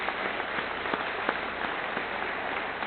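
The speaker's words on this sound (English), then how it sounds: "let's give them a round of applause" Steady applause fills a graduation ceremony hall as the audience claps for the Class of 2019, dense and continuous throughout with a few sharper nearby claps standing out.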